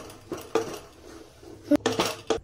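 A utensil stirs and beats besan batter in a metal pot, giving irregular clinks and scrapes against the pot, some louder taps in quick clusters, close by and with no voices.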